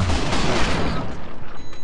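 Rapid bursts of AK rifle spray fire from a first-person shooter game, loud and dense at the start, then thinning into scattered separate shots that trail off.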